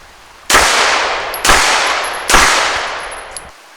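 Three loud, sharp gunshots from a Glock 34 Gen 5 pistol during a timed shooting drill, fired about a second apart, each followed by a ringing, decaying echo, with no talking.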